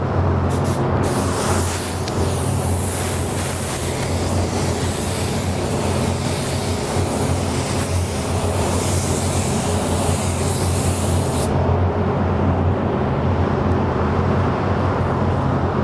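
A spray gun applies a first coat of silver sealer base coat, giving a loud, steady hiss close by that runs unbroken, its brightest edge stopping near the end while a compressor drone continues underneath.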